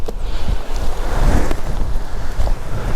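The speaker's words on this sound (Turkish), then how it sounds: "Çok rüzgarlı burası." Strong wind in a deserted village roars and buffets the microphone continuously, loud and close, with gusty rumbling throughout.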